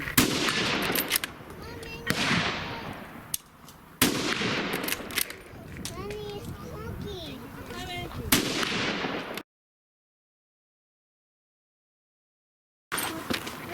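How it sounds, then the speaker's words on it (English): Rifle shots crack out one after another with metallic clatter between them as the bolt of a scout rifle is racked, loud and close, firing at a single target at 100 yards, ending in a sudden silence. "even though I have to rack the bolt, I'll be sweeping the weapon between shots."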